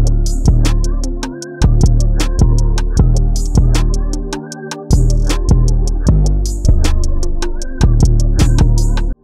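Pitched percussion sample tuned in key, sitting inside a loud, full ambient R&B beat built in FL Studio, with booming bass and steady crisp drum hits.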